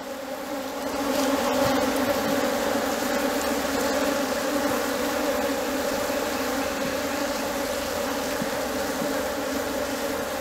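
Dense, steady drone of honey bees swarming around an open Ninho hive during honey-super placement, loud and continuous throughout with no voices.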